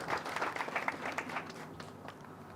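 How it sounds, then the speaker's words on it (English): A faint, brief round of applause from an audience at a topping-out ceremony for a university aerospace flight operations building, steady clapping that slowly tapers off. "Let's give Provost Burns and Dean Van Patten a round of applause"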